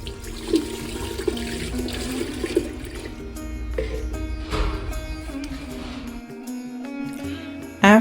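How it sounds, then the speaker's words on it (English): Water runs steadily from a faucet in the corner of an Indian squat toilet into a container, with splashing and gurgling that continues throughout and cuts off near the end. "There's a faucet in the corner. You fill it with water."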